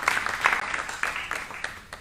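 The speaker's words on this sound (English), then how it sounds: "Then you guys all applaud" Crowd applause at a live show: steady, dense clapping from many hands, fairly loud and continuous for about two seconds, with small swells and dips.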